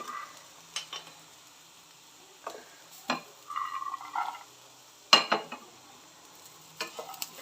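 Roasted peanuts go into a frying ivy gourd curry: scattered clinks and scrapes of a spoon against the pan over a faint, quiet sizzle, with brief bursts of stirring and long near-silent gaps.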